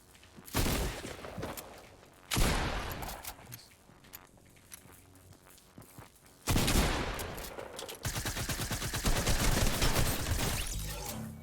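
Gunfire in a shooter video game, arriving as several separate loud bursts: a short volley early, another a couple of seconds later, then sustained rapid fire through the second half.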